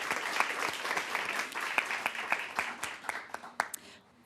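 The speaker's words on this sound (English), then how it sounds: "So let's give them a round of applause" A room of attendees applauds at a town council meeting honoring community performing groups, a dense, sustained round of clapping with a few sharp individual claps standing out before it fades.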